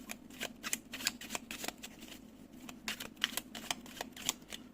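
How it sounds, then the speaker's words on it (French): A deck of tarot cards is shuffled close by, with quick riffling flutters repeating in uneven bursts throughout, crisp and papery, with no talking. "on va prendre une autre carte sur cette situation actuelle"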